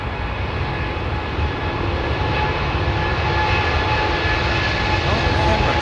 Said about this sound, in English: Set of Rolls-Royce Trent 1000s want to listen.